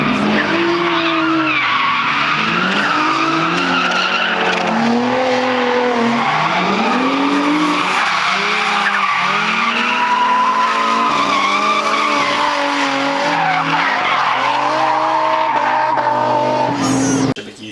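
A Nissan 350Z skids in a crash, its tyres squealing in long wavering, rising and falling howls over a roaring engine, loud and continuous for the whole stretch before cutting off abruptly.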